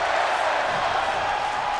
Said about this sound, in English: That's the crowd chanting, this is awesome.